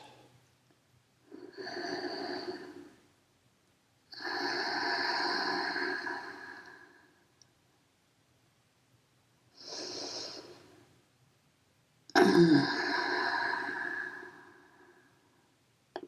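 Slow, deep yoga breaths close to the microphone, four long airy inhales and exhales of several seconds each, separated by quiet pauses.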